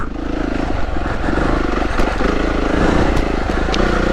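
A Beta 390RR trail motorcycle engine runs loud and near on a Kent green lane, its chugging throb rising and dropping as the rider works the throttle, with a voice briefly over it.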